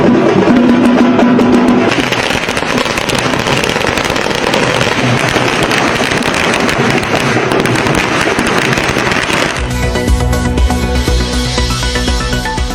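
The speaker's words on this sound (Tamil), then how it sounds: "விஜய் கட்சி தொடங்கியதை அடுத்து பட்டாசு வெடித்து கொண்டாடிய ரசிகர்கள்." Strings of firecrackers set off by fans celebrating the launch of a political party in Tamil Nadu, a loud, dense, continuous crackle of rapid bursts that runs throughout with no pause.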